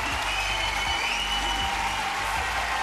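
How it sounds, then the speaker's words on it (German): Studio audience applause at a televised singing competition sing-off, a continuous dense wash of clapping over low music, brief and loud. "Dein Applaus."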